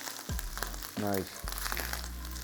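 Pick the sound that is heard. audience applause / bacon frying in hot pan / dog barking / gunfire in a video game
bacon frying in hot pan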